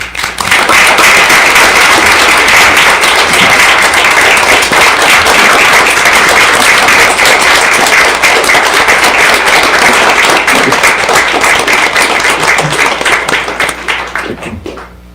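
Loud, sustained applause fills a city council meeting honoring police officers, dense and continuous from many hands before tapering off at the end.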